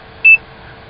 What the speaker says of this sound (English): When I press it, you'll hear a beep.